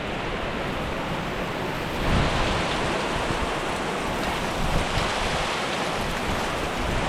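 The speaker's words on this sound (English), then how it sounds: "Take a look at this, raining cats and dogs now" Heavy rain pours down outside in a dense, constant hiss, steady and fairly soft with no break, one brief swell near the middle.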